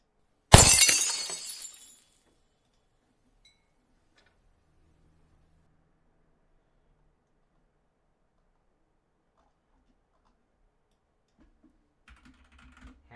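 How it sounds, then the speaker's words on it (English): A glass-shattering sound effect bursts once at the start, a bright crash with scattering shards that fades within about a second and a half, followed by near silence and faint soft clicks at the end. "I don't want the glass sound effect."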